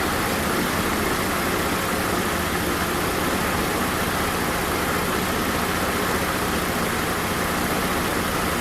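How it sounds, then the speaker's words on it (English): A Mercedes 190E SportLine with a swapped 3.2L M104 engine runs at a steady idle, a dense continuous engine rumble with hiss, recorded close and unchanging throughout. "the engine is running right now"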